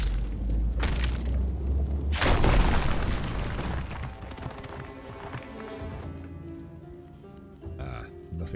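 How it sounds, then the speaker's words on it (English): A rock explosion in the video game RuneScape: Dragonwilds lands as a loud, broad boom with a sharp onset, then a rumbling, crackling tail that fades under game sounds and an excited voice. "Rock explosion, bro."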